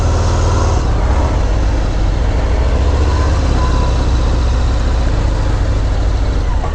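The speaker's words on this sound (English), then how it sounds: "Milwaukee 8 114 engine." A 2018 Harley-Davidson Fat Bob with a Milwaukee-Eight 114 engine drones loudly and steadily on the road, with heavy wind roar mixed in throughout.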